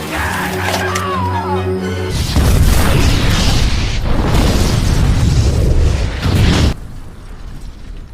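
A film gas explosion erupts into a loud, dense roaring blast that sustains for several seconds, then cuts off abruptly into a quieter tail.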